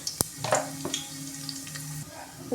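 Whole spices (cinnamon, cloves, cardamom, fennel) frying in hot oil for tomato rice, a soft sizzle with scattered pops and crackles, plus a few clicks of a spoon against the pan.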